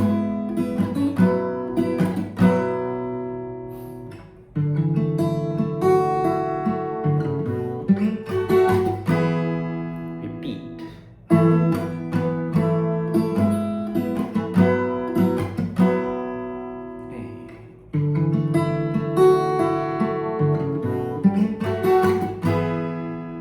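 A single guitar plays the intro of a song, strummed chords with ringing sustained notes in repeating phrases that restart every few seconds, clear and close with no talking.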